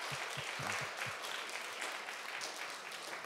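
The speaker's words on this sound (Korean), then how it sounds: "우리 뜨거운 환영의 박수 부탁드립니다." Welcoming applause from a gathering of mothers at a Wednesday prayer meeting, a steady wash of clapping from many hands heard at a moderate distance, with a few low thumps early on and no talking over it.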